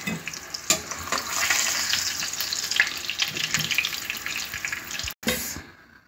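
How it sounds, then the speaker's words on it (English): Ingredients for Jamaican brown stew fish frying in a pan of oil, giving a steady, loud sizzle with occasional stirring clicks and a short break near the end. "I'm now going to fry up all my ingredients and then put my fish in to brown through."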